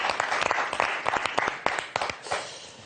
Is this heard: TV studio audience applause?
yes